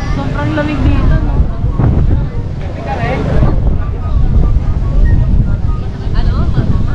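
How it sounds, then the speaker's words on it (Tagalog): Strong wind buffets the microphone on Bagasbas beach, a continuous loud roar of gusts and rumbling with surf underneath, steady for the whole stretch with brief dips, while people talk in the background. "Mahangin na talaga ngayon."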